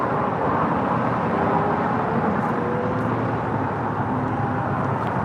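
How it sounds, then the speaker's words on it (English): An All Nippon Airways 787-8 Dreamliner from Tokyo Haneda touches down on runway 24 right, heard as a steady, loud broadband jet roar with a few faint clicks on top, sustained throughout. "All Nippon Airways 126 now touching down, about to touch down on 24 right from Tokyo Haneda, 787-8 Dreamliner"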